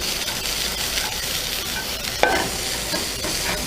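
White onion and a little garlic frying in a pan for Hawaii-style fried rice, a steady close sizzle with a single sharp utensil clink partway through, no talking.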